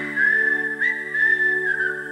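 Human whistling from a song in the film Kuch Kuch Hota Hai, a clear sustained whistled melody gliding between steady notes over a soft tonal musical backing, close and prominent.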